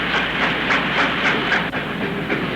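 A Western Maryland Railway coal freight train rolls steadily along the rails in the Allegheny mountains with a constant rumble and broad hiss, wheels giving faint rhythmic clicks, loud and continuous.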